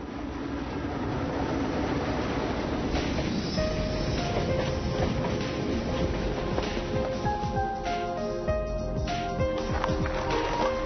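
A train in Xinjiang rumbles past nearby with a loud steady roar, then high metallic squeals from the wheels join in toward the end.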